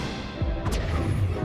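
An Incendio spell cast during combat in Hogwarts Legacy, with a thudding impact and a brief bright whooshing burst over dense, loud battle noise, with no talking.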